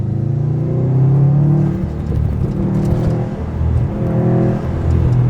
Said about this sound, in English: I want you guys to listen to the turbo noises with this car.